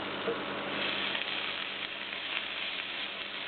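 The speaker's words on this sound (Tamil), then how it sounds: "இந்த கீரை நல்லா வதங்கிட்டு இருக்கு." Constant close sizzling and hissing of chopped leafy greens (keerai) frying in a pan, with faint stirring and no speech.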